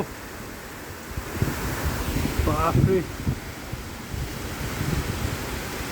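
Steady rushing noise of heavy monsoon rain driven by strong wind in Bhaktapur, Nepal, with gusty swells and a man exclaiming briefly partway through.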